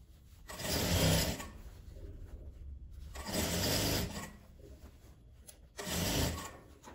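A sewing machine stitches denim and patchwork scraps for a toiletry bag, slowly working around a rounded corner; three separate bursts of close, buzzing machine running with short quiet pauses between them.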